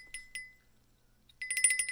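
A small pig-shaped Christmas ornament bell gives two quick bright tinkles, falls silent, then jingles in a rapid cluster of clear metallic rings up close.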